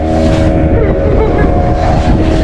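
A motorboat ride on the sea at Malvan, Konkan: a loud, steady engine roar mixed with rushing water and wind buffeting the microphone, filling the whole stretch without a break.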